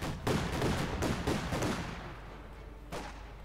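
Machine guns fire in a Company of Heroes 2 battle, rapid overlapping bursts of gunfire that crackle steadily, then thin out before one final burst.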